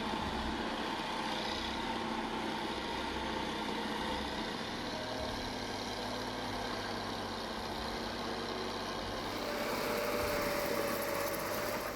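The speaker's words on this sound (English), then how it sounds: "Trucks carrying timber weave through narrow mountain passes, clinging to every meter of muddy road." A timber truck's heavy engine on a muddy mountain road, a steady low diesel rumble that runs continuously, rising slightly in loudness near the end.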